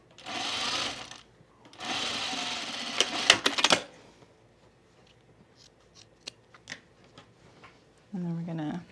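A home sewing machine stitches pajama bottoms in two short bursts, the second ending in quick clicks, then a quiet stretch with scattered handling taps before a voice speaks near the end.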